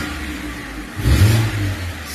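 BMW X1 with a misfiring cylinder, engine rising from idle into a brief, loud rev under throttle then easing back, heard up close as a low, rough mechanical roar.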